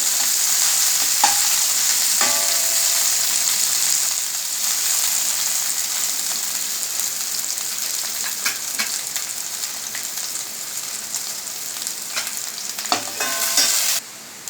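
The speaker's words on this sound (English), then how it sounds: "Give it a good stir." Chicken chowmein fries in a pan while being stirred, a loud, steady sizzle running throughout with occasional metallic scrapes and clinks of the utensil against the pan, no voices.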